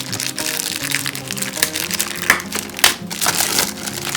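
A plastic bag crinkles and crackles in handling while a Mecool KM2 TV box is unboxed, with a steady rustle and a few sharper crunches close by.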